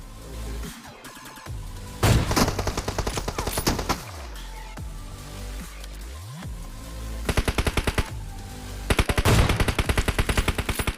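Gunfire in a battle royale video game with an AWM sniper rifle, loud rapid bursts of shots separated by brief pauses and a couple of sweeping tonal effects, no voices.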